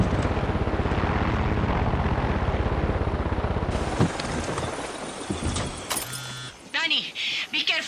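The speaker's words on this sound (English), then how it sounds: "There's an enemy chopper creeping the skies nearby." An enemy helicopter flies overhead in Far Cry 6, a loud steady rotor thump dominating before fading under other game sounds and brief effects.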